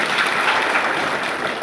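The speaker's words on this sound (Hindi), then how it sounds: "एक हम लोग सब मिल के ताली बजाएंगे।" A church congregation claps together during a Hindi-language sermon, producing a loud, dense, continuous wash of applause that holds steady for the whole moment.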